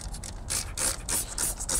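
A foaming spray bottle of Chemical Guys cleaner used in truck interior cleaning fires a series of about six short, crisp hissing sprays in quick rhythm, close to the microphone and fairly quiet, with nothing else heard.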